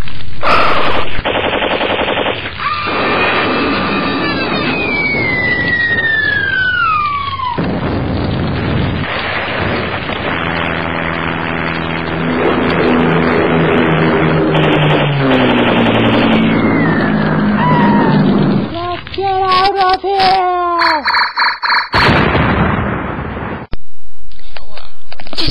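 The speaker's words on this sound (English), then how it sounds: "The bombing is starting! Here come the bombs!" Wartime air raid effects fill the scene: rapid machine-gun bursts and booming gunfire rattle loudly, with whistling falling bombs sliding down in pitch, then a roar of aircraft and explosions over continuous chaotic noise.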